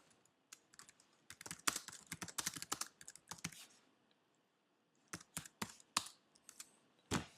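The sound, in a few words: typing on a computer keyboard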